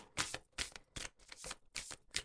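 A Rhythm and Soul tarot deck is shuffled and drawn in close, crisp bursts, about six rapid riffling card swishes in a regular rhythm.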